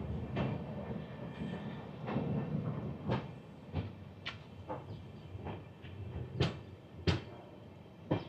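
The Sairang–Kolkata Express rolls across Kurung bridge: a faint, distant low rumble broken by irregular sharp metallic clacks and knocks from the wheels and carriages.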